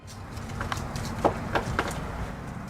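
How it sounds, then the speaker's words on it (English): Footsteps at a reportedly haunted location, a few faint, irregular thuds over a steady low background hum, somewhat distant, with no talk. "And shortly after, what sounds like footsteps are heard."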